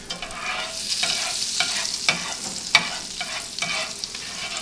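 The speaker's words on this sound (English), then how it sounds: "Melt that butter around." Butter sizzling in a sprayed skillet, a bright steady crackle broken by scrapes and soft clicks of stirring, close and alone with no talk.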